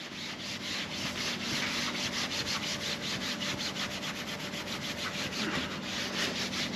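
A rag soaked in mineral spirits rubs back and forth over a wooden piece, giving a steady rhythmic scrubbing and swishing close to the mic, continuous for several seconds with no talking.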